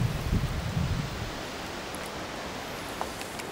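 Wind on a sunny day in Upper Slaughter in England's Cotswolds rushes across the microphone in a broad, steady hiss, with low buffeting gusts at first that ease into a softer, even rush.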